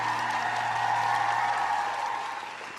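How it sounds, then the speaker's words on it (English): A crowd clapping during a guitar solo, dense steady applause mixed with sustained tonal music, loud and continuous before easing off slightly at the end. "I'm more interested in the fact that we have the crowd clapping after like the start of the solo"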